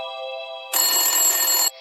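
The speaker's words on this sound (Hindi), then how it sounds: "तभी उसके फोन की घंटी बजी।" A steady electronic tone gives way to a louder, bright mobile phone ringtone burst for about a second, then drops back to a softer tone.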